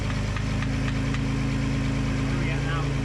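A Datsun 280Z engine idles high during a timing adjustment, a loud, steady mechanical drone with a rhythmic throb that runs throughout.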